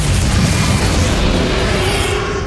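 Bombarda blast spell going off in Hogwarts Legacy, a loud, full explosion that booms and rolls on for a couple of seconds with no voices over it.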